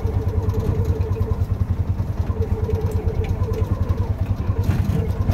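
A tuktuk tricycle's small engine runs under throttle with a steady, rapid pulsing chug and rattling clatter, loud and close throughout, with faint voices underneath.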